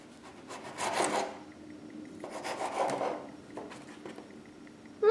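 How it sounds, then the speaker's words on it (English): A knife slices through folded elephant ear cookie dough in about half-inch pieces, giving soft, close rasping strokes in three or four separate bursts, quiet overall, with no talk. "I'm cutting the cookies about 1/2 inch"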